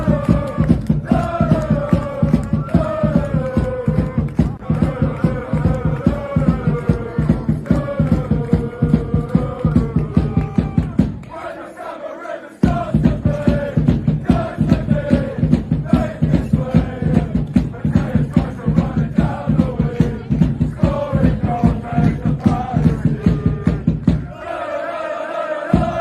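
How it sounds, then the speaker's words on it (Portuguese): Crystal Palace supporters chanting for Matheus França in a stadium, a loud massed crowd singing a repeated rhythmic chant with clapping beats, breaking off briefly twice before picking up again. "Dá só uma olhada num vídeo da torcida do Crystal Palace cantando a música do Matheus França"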